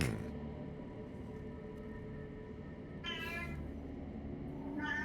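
A cat meows within the eerie soundscape of a Call of Cthulhu Halloween game, two drawn-out cries about two seconds apart over a steady low ambient hum, no talking.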